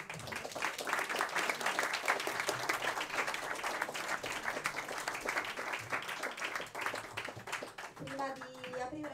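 Audience applause at a small jazz concert and jam session, a dense steady clapping crowd sustained throughout, fading slightly near the end as a few voices come through.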